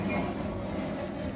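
Low rumble of a train or old tram carriage on a rail route, a continuous muffled rolling drone heard at a distance with no voices.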